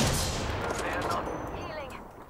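Gunfire from a weapon in the Apex Legends video game, a loud burst of shots at the start fading into busy game noise, with voices talking over it.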